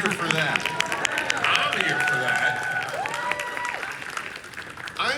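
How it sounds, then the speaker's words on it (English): Convention audience at WonderCon applauds and cheers in a steady, dense clatter of clapping, with voices and shouts mixed in throughout. "Yeah, you can applaud."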